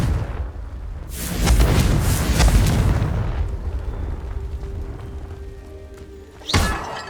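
The Confringo fire spell blasts vases in the Hogwarts Legacy video game: a long rumbling boom with crackling debris, then after a quiet stretch a second sharp explosive burst near the end.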